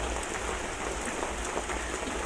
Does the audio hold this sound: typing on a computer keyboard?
no